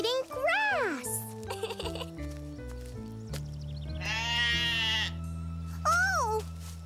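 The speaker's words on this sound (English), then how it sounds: "Sheep? Wow, Grandma! Sheep! Look!" A cartoon sheep bleats twice, a wavering bleat at the start and another near the end, over a steady background music track in a children's animated farm scene.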